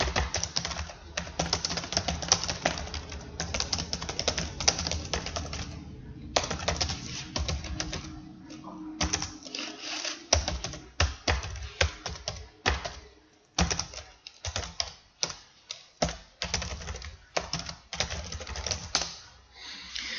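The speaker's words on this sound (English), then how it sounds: "I'm going to type in my address information." Typing an address on a computer keyboard: rapid, close key clicks come in bursts with short pauses and an occasional harder keystroke, continuing steadily throughout.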